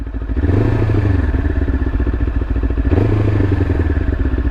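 A Sinnis Terrain 380 adventure motorcycle is revved twice at close range, the engine note rising and then hanging high before dropping slowly, with loud mechanical clatter under the steady idle.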